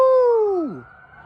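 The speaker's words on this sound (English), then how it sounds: "Emergency vehicle. Police car." A police car siren sounds briefly, a single loud descending wail that sweeps down in pitch and fades quickly, with no talking.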